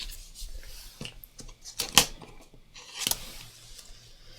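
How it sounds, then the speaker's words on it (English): Scissors trimming paper for an art journal at a craft table, with a few quiet, brief snips and rustles spread out over light handling noise; the sharpest cuts land near the middle and toward the end. "Normally I would trim all this out. I'll go ahead and do that if I can find my scissors here."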